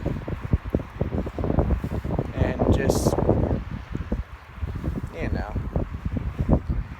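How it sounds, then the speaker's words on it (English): Wind blows across an open campus field outdoors, a steady rushing and buffeting on the microphone that continues beneath someone talking throughout. "it's a little bit windy"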